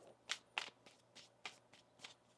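Tarot cards being shuffled by hand, a series of soft riffling bursts in a steady rhythm, close and quiet.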